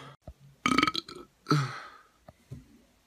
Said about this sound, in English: Enough of the burping!